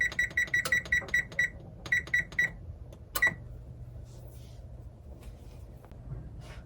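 A kitchen oven timer beeps in a rapid run of short, evenly spaced electronic tones, pauses briefly, beeps again several times and ends with one last beep, close by, before a low steady hum while pumpkin pie bakes.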